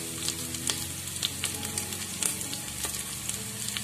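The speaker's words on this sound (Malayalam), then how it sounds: "കടുക് പൊട്ടിയതിന് ശേഷം നമുക്ക് കൊച്ചുള്ളി അരിഞ്ഞു വെച്ചത്, കറിവേപ്പില, വറ്റൽ മുളക് ഉണ്ടെങ്കിൽ അത് എല്ലാം കൂട്ടുന്ന ഫ്രൈ ചെയ്തെടുക്കാം." Chopped shallots, curry leaves and dried red chillies fry in oil in a pressure cooker after mustard seeds have popped, making a close, steady sizzle dotted with frequent sharp crackles and spatters, with no talking.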